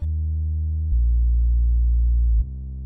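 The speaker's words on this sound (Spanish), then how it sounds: "Vamos a escuchar el sub en solo." A soloed sub bass synth from a tropical house track plays a pure, deep sine-like tone, holding one low note, stepping to another, then shifting again, loud and steady with nothing else audible.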